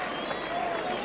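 A crowd at a 1989 Australian football match between Port and Sturt roars steadily after the Maggies kick their first goal, with a broad, loud, continuous cheer.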